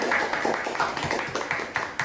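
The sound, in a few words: applause for student guests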